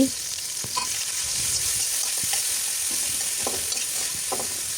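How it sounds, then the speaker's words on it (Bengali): Chopped onion and sliced green chili fry in hot oil with a steady, close, continuous sizzle and a few soft stirring scrapes, with no talk. "একটু তেল দিয়ে তারপর দিয়ে দিচ্ছি পেঁয়াজ আর কাঁচামরিচ"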